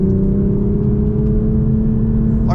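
A 2025 Toyota GR Supra engine hums from inside the cabin, holding one steady, even pitch with no change in revs, loud and constant throughout.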